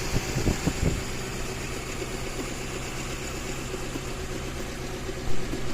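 The 1000 engine of a 1996 Suzuki Carry Carreta idles smoothly with a steady, even hum and light vibration, heard up close.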